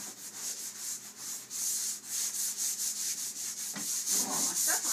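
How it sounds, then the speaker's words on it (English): Rhythmic back-and-forth scratching of sandpaper by hand on painted wood furniture, steady and close, strokes evenly spaced throughout. "I'm going to start sanding"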